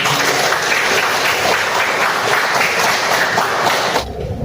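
A school classroom of students claps together in sustained dense applause, loud and close, ending abruptly near the close.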